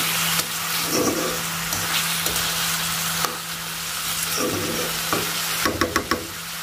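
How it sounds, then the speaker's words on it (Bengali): Egg and potato are stirred and fried in a pan, a steady close sizzle with periodic scraping stirs and a few sharp clacks of the spatula toward the end. "অনেকক্ষণ ধরে নাড়াচাড়া করে ভাজি করলে ডিমটা অনেক মজা লাগে"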